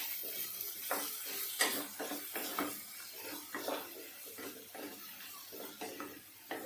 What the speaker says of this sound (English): I'll give a good mix.